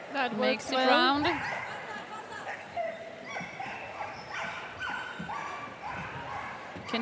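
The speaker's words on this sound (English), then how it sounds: "Can hear the dog screaming all the way through the course." At a large jumping event of the Agility World Championship, a Border Collie barks and yelps in excited, high-pitched bursts during an agility course run, loudest at the start and then repeating over crowd noise and commentary.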